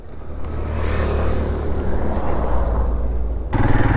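A motorbike ridden along a road in Manali gives a steady loud engine hum mixed with wind rush, rising slightly near the end as the revs pick up.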